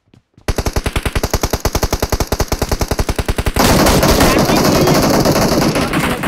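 Rapid automatic gunfire in the mobile shooter BGMI, a loud, evenly spaced burst of shots that gives way to a dense, continuous roar of firing and explosions, with a voice talking briefly over it.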